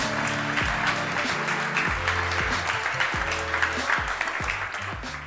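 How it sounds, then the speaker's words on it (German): Audience applause after a startup pitch at an accelerator demo day, a steady wash of clapping under a low musical bed with rhythmic thumps. "Vielen Dank, Till, und das ist dein Applaus."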